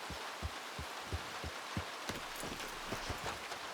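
Rain in the video game Red Dead Redemption 2, a steady hiss of falling rain with rhythmic low thuds underneath, moderately loud and without speech.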